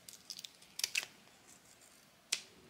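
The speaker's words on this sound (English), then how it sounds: "There's a little bit of overflow here, so we can just trim it with scissors." Scissors trim the overflow edge of a hardened resin moon phase perpetual calendar, giving a few quick, close, faint snips and clicks, then a single sharper snip after a short pause.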